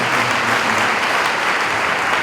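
An audience at a student association's handover, farewell party and anniversary celebration bursts into loud, dense applause, a sustained wash of many hands clapping at once with no pause.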